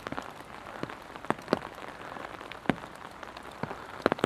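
Rain falls outdoors, a quiet, soft patter with scattered sharper drops striking a surface at irregular moments, with no voices present.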